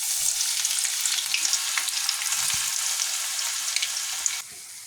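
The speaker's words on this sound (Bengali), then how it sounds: "এবার পেঁয়াজটা ছেড়ে দিই।" Onions frying in hot oil with cardamom and cloves give a loud, dense, continuous sizzle with crackling pops, close up, easing slightly just before the end.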